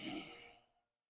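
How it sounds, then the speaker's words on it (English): A single breathy, throaty ocean-breath yoga exhale with a soft whooshing rasp, close and fairly loud at first, then tapering off into silence. "consciously make this whooshing sound with your throat as you do."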